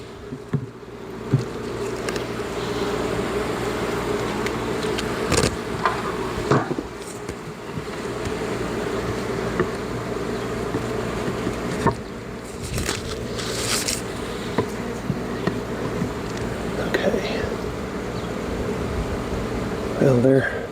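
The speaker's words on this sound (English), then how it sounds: "a bunch of bees caught over here on this side" Many bees drone continuously around an opened horizontal beehive, loud and close, with scrapes and knocks of hive covers and frames and a voice speaking now and then.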